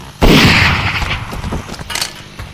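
Gunfire from a weapon in the VR game Blood Trail: one loud, close blast that hits hard and then fades into a rumbling tail, followed by a few fainter crackling bursts.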